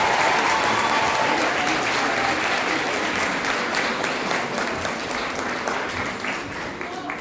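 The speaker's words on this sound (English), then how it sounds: "I think you should give your parents a round of applause." Sustained applause from a large crowd at a high school valediction ceremony, dense and steady for several seconds, slowly tapering slightly toward the end.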